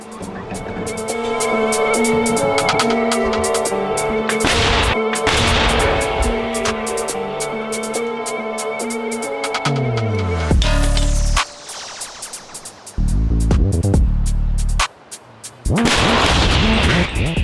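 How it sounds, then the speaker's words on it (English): Artillery howitzer firing in a military setting, heavy booming blasts over loud continuous noise and tonal sound, with abrupt cutoffs and a second burst late in the clip. "Immediately after the shot has been fired, the soldiers rush to mask the howitzer."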